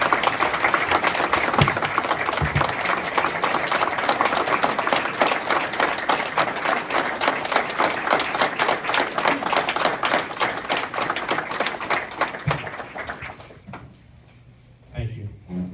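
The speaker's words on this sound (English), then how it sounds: "Please give a round of applause and recognition for our Vietnam veterans." Loud, sustained applause from a crowd at a district event honoring Vietnam veterans, dense clapping for about thirteen seconds before tapering off into a few scattered claps and room noise.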